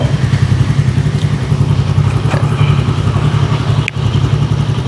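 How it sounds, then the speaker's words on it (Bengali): Close, loud motorcycle exhaust putters at a steady idle, its low rhythmic throb continuing unbroken with a brief dip near the end. "এই স্যালেন্সারের সাউন্ড"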